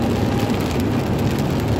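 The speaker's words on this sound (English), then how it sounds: "So what do you do if it's raining like this?" Rain falls outside on a gloomy day as a steady, even hiss that holds constant throughout with no voices.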